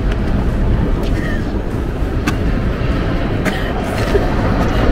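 A train rumbles past up close, with steady heavy noise and occasional metallic clanks and squeals over a few seconds.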